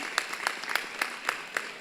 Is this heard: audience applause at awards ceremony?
yes